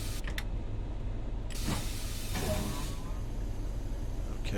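Air brake on a Class 31 diesel locomotive in Train Sim World on the Tees Valley Line hisses steadily over a low engine idle as the train brake is set to full service, with brief louder bursts of rushing air.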